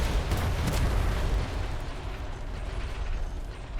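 Heavy naval guns firing aboard a Royal Navy warship in a roleplay game, a loud, dense rumbling barrage with sharp bursts early on, then a sustained booming roar.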